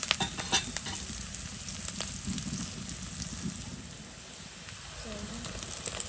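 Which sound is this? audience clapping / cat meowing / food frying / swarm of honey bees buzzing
food frying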